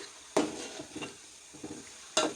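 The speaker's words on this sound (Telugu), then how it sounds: "వాటర్ అంతా అంటే మనకి ఇందులో వాటర్ ఉంటుందండి అదంతా కూడా ఇంకిపోయి నెయ్యి పైకి తేలుతుందనమాట" Buffalo-milk butter simmers down into ghee in a pot, a low, quiet bubbling broken by a few sharp spoon scrapes and clinks against the pan as it is stirred.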